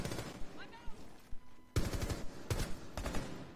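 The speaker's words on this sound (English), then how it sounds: "I didn't shoot you. I mean, I shot a bullet." Gunfire in Rainbow Six Siege, with a few sharp, loud shot bursts arriving in quick succession after a stretch of quieter in-game noise.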